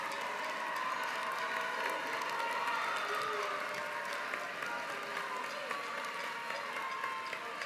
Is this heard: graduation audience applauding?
yes